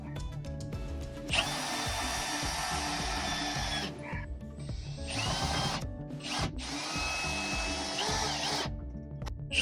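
Power drill driving fasteners through wall extenders into the top plate of a garden shed kit wall, with two long whirring runs and short pauses and rattles in between.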